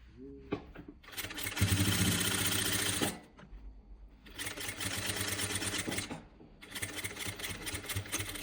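Sewing machine stitching a zipper onto a dress, three rapid whirring bursts of needle clatter separated by short pauses, close and loud.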